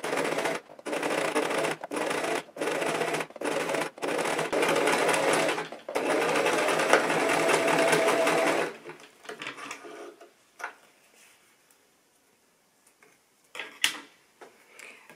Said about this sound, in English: So I sew very, very close to the edge that I've already done.